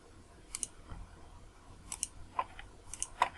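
Several faint, sharp mouse clicks in a quiet room while operating Perform-3D structural modeling software, spaced irregularly over a few seconds with no talking.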